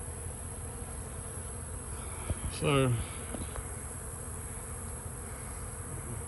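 A steady, low insect drone of honeybees around a hive hums throughout, with a brief voice and a short rising whine partway through.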